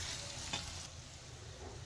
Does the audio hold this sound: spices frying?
yes